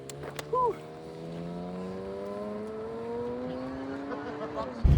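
A Porsche Carrera GT supercar idles after a bump start, its engine holding a steady low hum with a slowly rising pitch over several seconds, ending in a sharp loud burst, with brief voices near the start.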